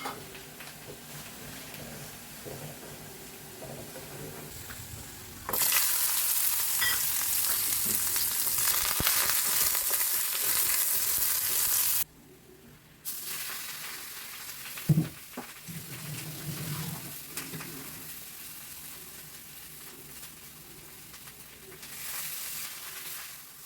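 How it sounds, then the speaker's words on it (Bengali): Fish frying in a pan, a steady loud hiss of sizzling oil that surges up suddenly, drops out briefly, then continues at a lower level with a few clinks, with no talk. "আমিও একটা মাছ ভাজা করছি"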